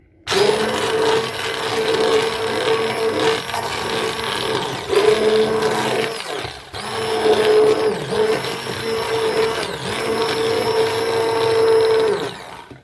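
Electric blender pureeing cooked tomatoes for Moroccan harira soup: loud whirring motor in several long bursts with brief pauses between them, close up, no talking.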